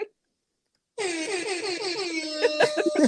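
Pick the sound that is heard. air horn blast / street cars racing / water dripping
air horn blast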